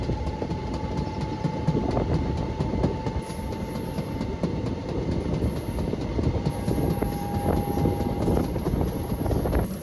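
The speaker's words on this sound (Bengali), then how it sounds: "অন টাইমে আমাদের এই নেতাজি এক্সপ্রেস 12311 নেতাজি এক্সপ্রেস একদম সঠিক টাইমে চলছে আর ঠিকঠাক চলছে" A 12311 Netaji Express passenger train running from Howrah to Kalka through Uttar Pradesh, with a steady loud rumble and clatter of the carriages heard from on board, continuous throughout with a faint high whine.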